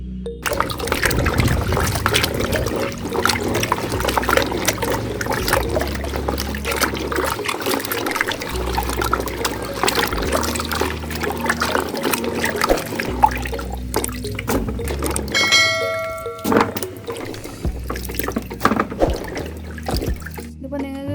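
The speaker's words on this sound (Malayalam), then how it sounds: "ഒരു 5-6 പ്രാവശ്യമെങ്കിലും ഈ കുവ്വ നല്ല പോലെ കഴുകിയെടുക്കണം" Water splashes and trickles while arrowroot tubers are washed by hand in a basin, a continuous close sloshing and pouring with occasional drips and clinks, with some talking over it.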